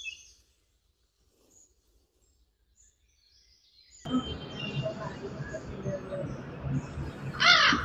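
A crow caws in the second half, after near-silence, against a busy outdoor background, with a sharper call standing out near the end.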